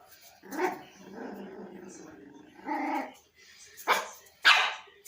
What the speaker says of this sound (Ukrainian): Фу, не гавкай